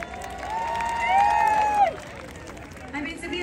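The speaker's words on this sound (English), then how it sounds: "Clap your hands if you agree." Outdoor crowd at a Diwali festival celebration in Times Square, New York, cheering and clapping loudly, with a voice rising and shouting over the sustained crowd noise before it fades a little.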